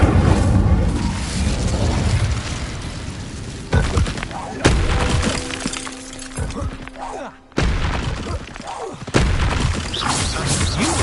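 Incendio fire spell casts in the Hogwarts Legacy video game during combat, loud whooshing bursts and crashing impacts over a dense battle mix, with abrupt cuts between shots.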